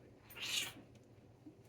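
A single short cat meow, fairly quiet, against a hushed room.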